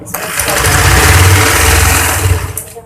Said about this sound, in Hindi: इसको बस फुल सिलाई लगा देंगे